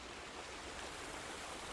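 Water gushing from a pump in The Vanishing of Ethan Carter, a steady, dense rushing wash of noise, fairly loud and unbroken throughout, with no voices.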